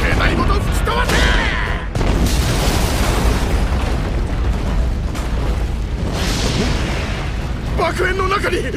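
A cutscene explosion in One Piece Pirate Warriors 4 roars as a loud, sustained blast with a dense rumbling wash, briefly interrupted near the start and swelling again before voices and effects break in at the end.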